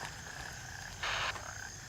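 Little frog bot croaking in a video game, a single short, clear croak standing out from a soft, steady background hum.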